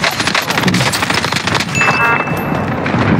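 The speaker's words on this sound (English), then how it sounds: "Allied cluster strike arriving." Cluster strike explosions in Call of Duty on Rebirth Island: a dense, rapid burst of booms and crackling blasts that rolls on continuously and loudly, with more distant detonations toward the end.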